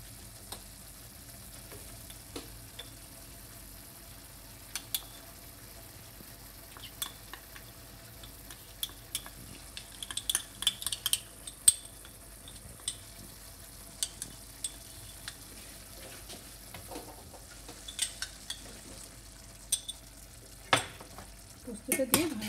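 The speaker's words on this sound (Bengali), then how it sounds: "পোস্তটা দিয়ে ভালো করে মিশিয়ে নিতে হবে" Spoon scraping and stirring boiled potato and bottle gourd with poppy seeds in a pan, faint light clicks and taps against the metal over a quiet low sizzle, intermittent and close.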